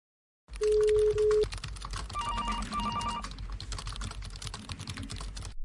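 Someone types a message on a computer keyboard in steady, close clicking, after a brief electronic tone and beeping near the start, with no talking.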